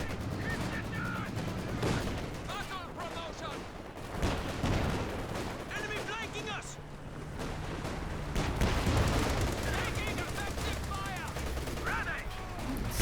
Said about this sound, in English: The Stuka now starts to fire.